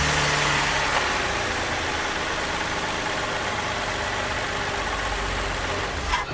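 A 2019 Toyota Sienna minivan engine idles in a steady, continuous rumble with a faint mechanical hum. A brief bump near the end may be the restart, and no one speaks.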